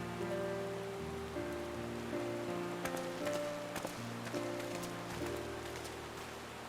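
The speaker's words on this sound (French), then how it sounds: "Et il fallait qu'il pleuve, hein," Steady rain patters in the video game Final Fantasy XIV, a soft continuous shower layered under sustained musical tones, with no voices.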